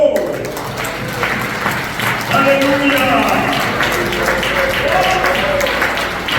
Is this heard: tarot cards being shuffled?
no